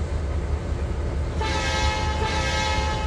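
A train in the video game Trainz 2022 begins pulling away, a steady rumbling roll that gains a bright tonal whine partway through, loud and continuous with no talk.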